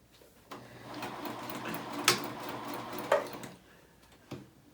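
A sewing machine backstitches fabric for a simple crossbody bag, giving a quiet, steady mechanical whir with a couple of sharp clicks. It sounds close and fairly soft.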